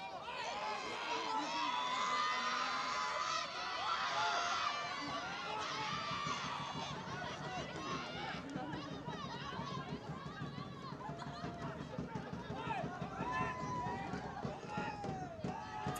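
Home crowd of Paro FC in the stands at a Bhutan Premier League football match against Thimphu City FC, a dense, steady roar of many voices with shouts and children's cries, loud and continuous.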